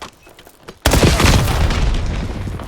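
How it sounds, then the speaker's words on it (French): An enemy precision missile explodes in Call of Duty Black Ops 7 multiplayer, a sudden loud boom after quiet ambience, followed by a long rumbling, crackling decay. "Missile de précision ennemi."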